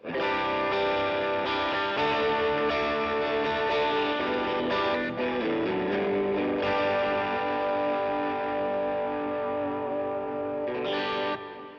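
Electric guitar played through the first channel of a Double Super OD version 4 overdrive pedal, with gritty, distorted sustained chords and notes ringing continuously, loud and up close with no talking.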